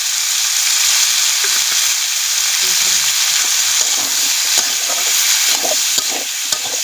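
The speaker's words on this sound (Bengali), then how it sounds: "কপি আর আলু দিয়ে একটুখানি ভাজা ভাজা করে মশলা দিয়ে দিলাম, দিয়ে এখন কষা হবে ভালো করে।" Cauliflower and potatoes fry with spices in a pan, giving a steady, close sizzle with scraping stir sounds throughout and no talking.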